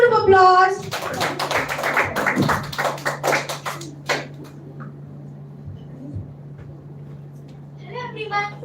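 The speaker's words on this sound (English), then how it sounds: "a big round of applause" At a school round of a children's literature festival, an audience gives a short burst of scattered clapping that thins out within a few seconds, with voices just before and after.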